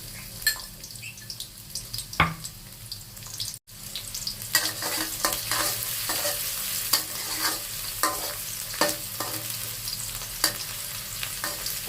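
Garlic frying in oil in a wok, a steady close sizzle with repeated scraping strokes of a spatula against the pan, briefly cut off once before continuing.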